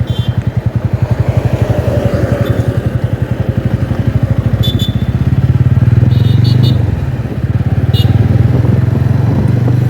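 A TVS Ronin 225 motorcycle engine thrums steadily up close, rising briefly as it rides onto the road, with a few light clatters.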